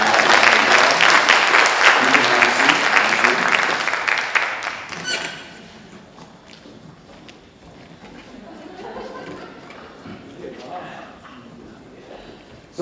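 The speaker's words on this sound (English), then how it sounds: "Let's give them a round" A classroom group applauds loudly for about five seconds, then the clapping cuts off and quiet murmuring and a little talk follow.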